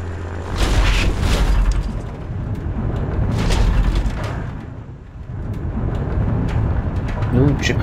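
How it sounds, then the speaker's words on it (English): Anti-aircraft artillery fire in War Thunder, a flight simulation game: loud, continuous rumbling booms and bursts fill the whole stretch, swelling and dipping without a clear break, with faint talk mixed in underneath. "AAA just shot somebody"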